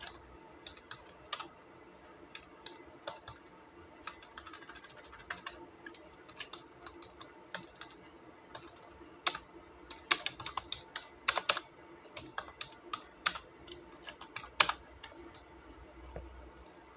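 Typing on a computer keyboard in a Linux text editor: irregular, fairly quiet key clicks scattered throughout, with denser bursts of keystrokes near the end and no talking.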